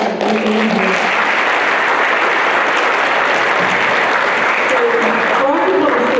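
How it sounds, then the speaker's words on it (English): Loud, sustained applause from a large school assembly audience fills the space, with a few voices and cheers mixed into the clapping. "Let's have another round of applause."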